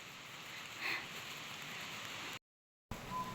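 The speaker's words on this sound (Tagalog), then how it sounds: "Naulan po dito" Rain falls steadily outdoors at a farm field, a soft even hiss broken by a short moment of dead silence before it resumes.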